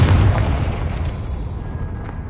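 A fire-blast spell explodes in the Hogwarts Legacy video game, a loud, deep booming blast that rumbles and slowly fades over a couple of seconds, with no voices.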